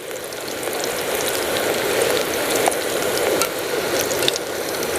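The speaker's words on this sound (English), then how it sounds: "They are nicely getting fried" Onions frying in oil in a pan over a camp stove outdoors, a steady dense sizzle and crackle with small pops throughout, close and fairly loud.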